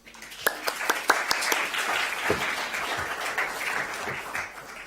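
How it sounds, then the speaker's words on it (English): An audience at a cultural talk event applauds, with a burst of sharp individual claps up front settling into steady, fairly close clapping for several seconds. "So give him a big applause."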